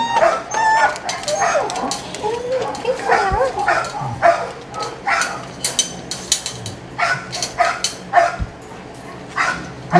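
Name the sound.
young beagles barking and whimpering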